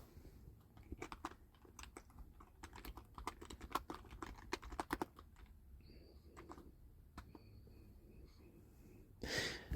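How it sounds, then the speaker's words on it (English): Typing on a computer keyboard indoors, quick irregular bursts of close, soft key clicks with pauses, ending in a short louder rustle. "Hold on, I gotta type up a response to something."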